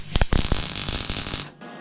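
Welder tack welding gussets onto an E36 roll cage, a harsh broadband crackling buzz in short bursts that stops abruptly near the end, close and loud.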